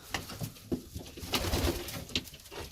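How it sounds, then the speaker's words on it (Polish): Ornamental pigeons coo softly and repeatedly in winter cold, a low, burbling chorus of several birds close by with no talking. "Gołąbki o, już czekają na jedzenie."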